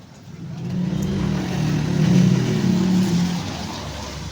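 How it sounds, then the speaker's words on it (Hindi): A sewing machine stitches a blouse with a continuous, close motor hum that swells slightly in the middle and then eases off, steady and without pauses. "इसी डॉट से पकड़ कर सिलाई कर लेंगे इस तरीके से"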